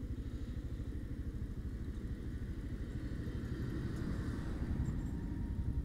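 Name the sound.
tractor engine passing on the road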